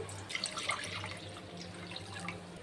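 Water poured into a kadai set up for boiling arbi (kochu), a faint steady splashing stream with a low hum underneath, quiet and continuous for a few seconds.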